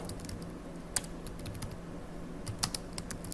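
Rapid close-up clicking of keys as Python code is typed on a computer keyboard, a steady patter with a couple of sharper keystrokes and no voice.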